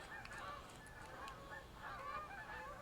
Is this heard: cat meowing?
no